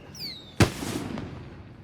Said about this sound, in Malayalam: രാത്രി ഒരു വെടിക്കെട്ട് കൂടി സ്പോൺസർ ചെയ്തു.